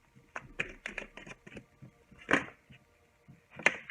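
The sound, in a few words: light shuffling of tarot cards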